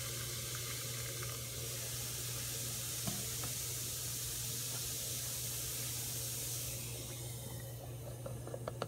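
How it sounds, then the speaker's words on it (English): Water trickles and hisses softly and steadily into a container holding a silver goblet, faint and continuous under a low background hum, with no talk. "Just a splash more water to make sure we cover it completely."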